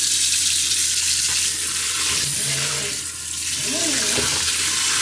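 A kitchen sink faucet in a cottage kitchen runs water in a steady, loud, continuous stream into a big, deep sink, with the flow shifting slightly as it splashes.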